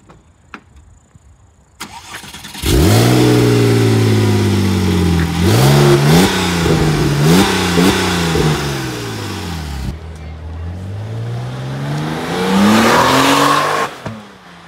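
A Chevrolet Camaro's powerful V8 engine fires up, then revs hard several times, roaring and dropping through a big exhaust before idling and revving again.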